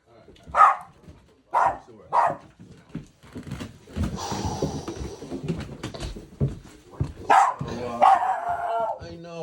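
A dog barks in short bursts, a few sharp yaps near the start and again later, with a person talking in between and under them.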